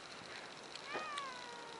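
A single drawn-out cat meow with a rising then falling pitch, heard outdoors in winter over steady background hiss and fairly faint.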